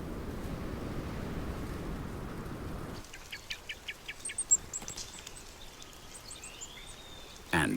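At dusk in a Mediterranean forest, small birds chirp in a quick series of faint, high notes after a stretch of broad rushing noise.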